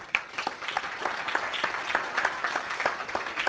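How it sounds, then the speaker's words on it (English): A round of applause from an audience at a meeting, moderately faint and steady claps spread across a few seconds. "So give your parents and your coaches a round of applause."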